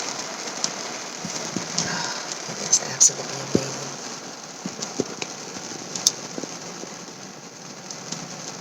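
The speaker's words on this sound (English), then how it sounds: "Sitting here, listening to the sound of the rain hitting the car." Steady rain patters on the roof and body of a parked car, heard from inside as a soft, even hiss with scattered sharper drops, while a person speaks quietly over it.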